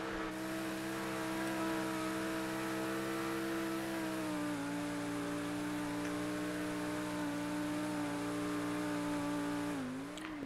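A car in a GTA FiveM roleplay server drives with a steady, loud engine hum that holds a constant pitch, dips briefly midway and shifts again near the end.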